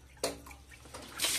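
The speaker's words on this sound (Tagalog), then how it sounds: "Yung tubig mo diretso na sa labas" Water runs and splashes as it drains through a newly repaired kitchen sink, a soft, close gurgle with a sudden gush early on and another surge at the end.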